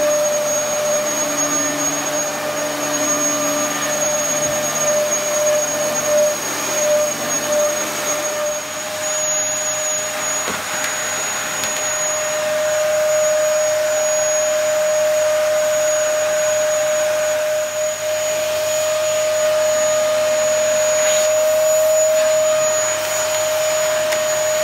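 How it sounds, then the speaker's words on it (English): A household hoover runs steadily and loudly throughout, a continuous broadband whoosh with a high motor whine, close by in an English countryside home during cleaning, with no talking. "So let's get the hoover on."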